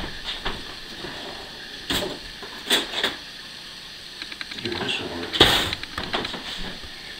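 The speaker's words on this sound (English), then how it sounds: "see what's in the drawer, hang on" Items clatter and knock as a kitchen drawer is rummaged through in search of a bigger knife, with scattered sharp clinks and thumps over several seconds and a louder rattle near the end.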